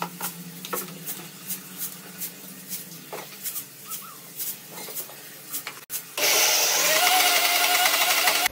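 Mixer grinder grinding lentil batter for vada, switching on after some clinking and handling noises and running as a loud steady whir through the last couple of seconds.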